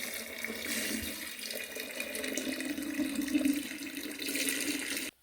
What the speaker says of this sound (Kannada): ಆವಾಗಲೇ ಬಿಸಿನೀರನ್ನು ನಾನು ತಣ್ಣಗೆ ಇಟ್ಟಿದ್ದೆ ಅಲ್ವಾ ಉಪ್ಪು ನೀರನ್ನು ಅದನ್ನು ಕೂಡ ನಾನು ಇವಾಗ ಇದಕ್ಕೆ ಸೇರಿಸ್ಕೊಳ್ತಾ ಇದ್ದೀನಿ